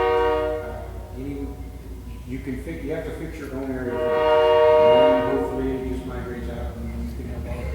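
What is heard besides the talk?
passing train with train horn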